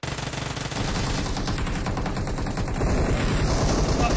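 Gunfire in an online shooter game: dense, continuous rapid bursts of automatic fire that build louder near the end, heard without talk.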